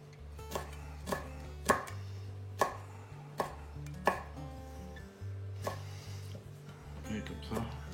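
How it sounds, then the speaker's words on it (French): A knife finely chopping on a cutting board while preparing beer-steamed mussels: about a dozen sharp, close taps in an irregular rhythm over quiet room background, no speech. "quand on va hacher finement"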